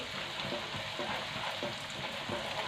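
Roasted coconut sautés in hot oil with a continuous close sizzle and soft rhythmic stirring scrapes running through it.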